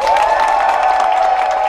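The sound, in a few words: audience giving a round of applause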